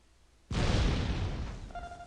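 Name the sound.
cluster bomb explosion in the video game Star Wars Galaxies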